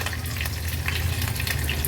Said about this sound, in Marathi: राई जिरं थोडं तडतडलं